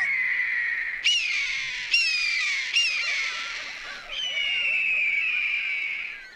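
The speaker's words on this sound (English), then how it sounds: "that's the cry of a great eagle." Cry of a great eagle on a coastal shore, a series of high, shrill screeching calls with sharp onsets, repeated several times before one long drawn-out scream, loud and close with no talking.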